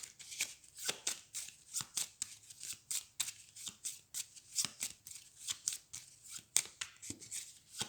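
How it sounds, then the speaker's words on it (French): A deck of cards for the God of War card game is shuffled by hand in a fast, steady series of crisp riffling bursts, close and clear, with no talking. "je mélange mon deck du coup"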